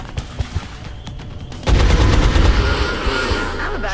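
Loud automatic gunfire as soldiers shoot at an alien in XCOM: Enemy Within, a few sharp shots and then a sustained rapid burst up close.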